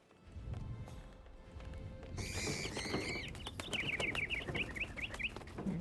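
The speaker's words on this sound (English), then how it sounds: "Birds." Birds in the Hitman video game chirp and call in quick repeated bursts against a busy ambient background with footsteps-like clatter, moderately near and fairly faint.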